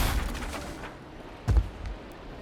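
Built structures being smashed apart in Valheim on an island base: a soft crumbling rumble at the start, then a single louder low thud around the middle, followed by faint debris noise.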